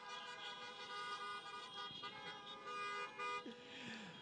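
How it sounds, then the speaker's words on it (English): Sustained tonal honking, like several car horns blaring together, loud and continuous with a few brief swells over a crowd-like murmur. "Honk your horns."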